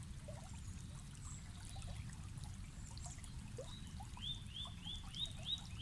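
A trickling stream runs as a steady, soft wash of water in a calm outdoor setting, with faint chirping calls above it that grow more frequent toward the end.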